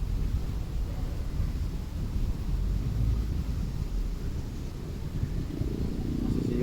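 Strong wind buffets an outdoor microphone during air-gun pellet testing, producing a continuous loud, low rumbling roar with steady gusting and no clear pauses.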